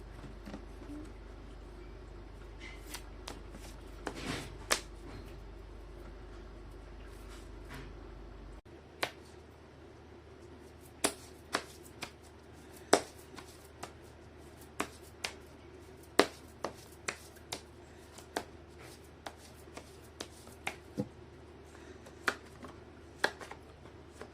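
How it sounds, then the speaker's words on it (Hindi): Tarot cards are shuffled by hand at close range, producing a long run of crisp, irregular riffle snaps and soft slides over a low hum, with no talking. "मैं कर लेती हूँ कार्ड की शफलिंग।"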